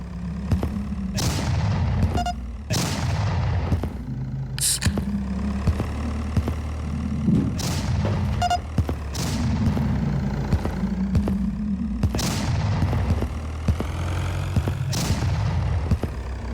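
Repeated heavy explosions from missiles in an action video game, loud booming blasts at irregular intervals over a steady low engine-like drone, with no voices.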